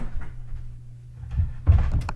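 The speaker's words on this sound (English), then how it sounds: "I'm going to close my kitchen door" A kitchen door swings shut with a soft thud and a louder closing knock near the end, heard up close over a low, steady hum from a running clothes dryer.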